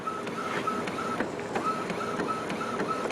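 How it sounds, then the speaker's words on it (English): An Epson WorkForce WF-2630 series inkjet printer runs steadily, its carriage whirring back and forth with regular clicking strokes and a mechanical hum throughout, no voices present. "printer just started to take off, finishing what it needs to print."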